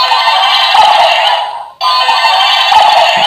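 Looping electronic waiting sound from a bootleg Chinese DX Beliarok toy sword's Z-Lance Arrow function, a loud, tinny, shrill tone that runs continuously, cuts out briefly midway, then resumes.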